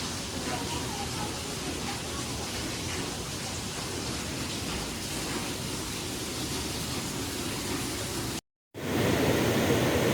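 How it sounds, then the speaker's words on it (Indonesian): A large river runs high and muddy after rain at the Ciherang Riverside campsite in Ciwidey, a loud, steady broadband rushing roar that cuts briefly to silence near the end and then resumes. "Ini kebetulan sungainya gede karena habis hujan, jadi airnya gede dan keruh."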